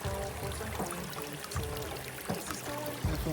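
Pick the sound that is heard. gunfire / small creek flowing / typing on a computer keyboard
small creek flowing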